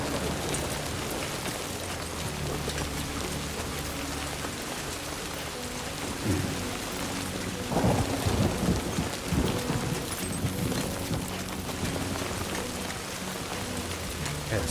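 Steady heavy rain pours throughout a Death Stranding 2 game scene, a dense constant hiss with low rumbling thunder swelling midway, loud and enveloping with no voices.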